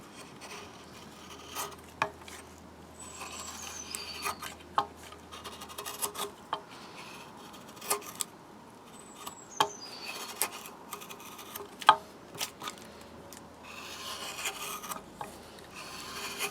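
Steady rasping and scraping as a blade cuts into a wooden kuksa bowl being hand-carved, with irregular strokes and occasional sharper clicks, close and fairly quiet throughout.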